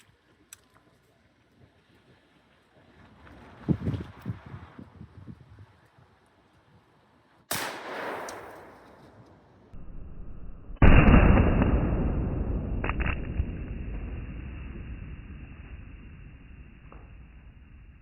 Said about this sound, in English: Standard Hornady 2 3/4 inch rifled slugs for a smooth barrel.